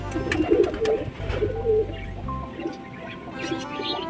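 Mumbai breed pigeons, a male and female among them, cooing in soft low throaty bursts, close by, with more calls in the background.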